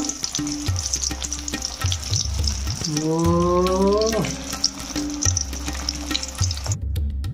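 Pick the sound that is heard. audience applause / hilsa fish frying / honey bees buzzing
hilsa fish frying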